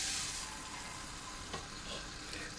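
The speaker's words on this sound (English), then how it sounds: "So we heat the palm oil" Palm oil heating in a pot on a cooker, giving a continuous faint hissing sizzle with a few small crackles and a light clink, quiet and close with no speech.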